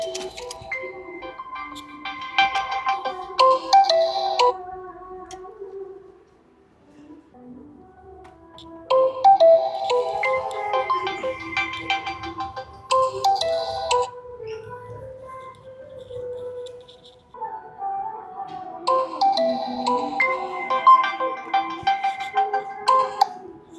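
A mobile phone ringtone ringing inside an office, a looping electronic melody that plays in three loud bursts with short pauses between them.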